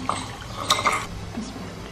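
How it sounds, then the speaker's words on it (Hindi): A spoon stirring full cream milk and rice flour for firni in a pot, with a few light metallic scrapes and clinks close by over a quiet background. "इसमें चावल का आटा शामिल करें, इसको चम्मच चलाते हुए इसको मिक्स करें।"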